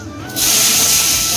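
Potatoes drop into a hot pan of sizzling tempering with cumin, dried red chilli and mustard seeds for chirer pulao. Quiet at first, then a loud, steady hiss of frying that holds to the end.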